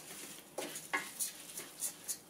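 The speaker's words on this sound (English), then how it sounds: "We're gonna give it a quick stir" Rice gets a quick stir in a pan: a series of faint, brief scraping strokes spaced unevenly over a soft, low background hiss.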